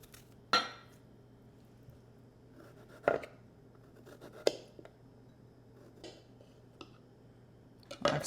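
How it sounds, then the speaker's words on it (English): A knife slices fresh strawberries on a board for cheese danishes, with a handful of separate close taps and clicks spaced a second or two apart over a quiet hum. "I'm going to slice a few strawberries and lay them on there"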